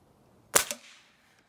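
A single quiet report from a backyard-friendly air gun, a soft sharp crack with a brief decaying tail, followed by a faint click.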